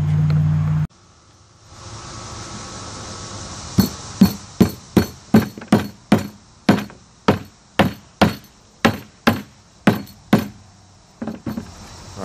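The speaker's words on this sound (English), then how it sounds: "what we want to do now is shoot a screw here, a screw here, in these four corners" Screws being driven into the corners of a small wooden farm-style lantern frame made from 2x2 lumber, a loud close series of regular sharp bursts, about a dozen in quick succession, after a brief opening noise.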